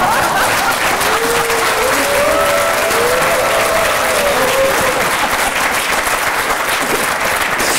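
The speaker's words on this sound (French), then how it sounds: "Je vous remercie de vous applaudir" A French television studio audience applauds steadily for the whole stretch, a dense, even wash of clapping that never lets up, with a few voices rising faintly above it early on.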